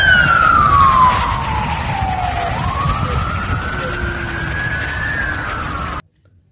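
A toy ambulance's electronic siren wails loud and close in a single rising-and-falling sweep for about six seconds, then cuts off abruptly.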